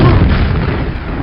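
A rocket explodes in the video game Rocket Haven, one loud, booming blast with a heavy low-end rumble that decays across a little over a second.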